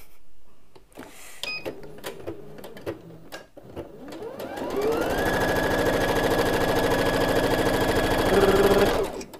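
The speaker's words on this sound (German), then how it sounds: "Vielleicht nähe ich es einfach wieder zu." An electric sewing machine stitching a cushion for a handcart, first a few clicks and handling sounds, then the motor spins up into a loud, steady, close whirring run that stops abruptly near the end.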